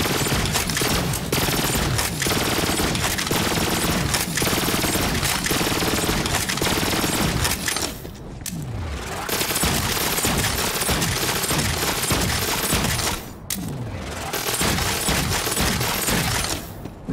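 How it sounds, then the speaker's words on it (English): Weapon firing at an impossibly rapid, continuous rate through a glitch in the video game Borderlands 3, a dense unbroken barrage of loud gunfire with two brief dips in the stream. "This glitch allows the Sploder to shoot like this."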